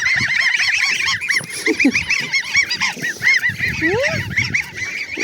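A flock of geese honking loudly and continuously close by, many overlapping nasal calls with a few lower squawks.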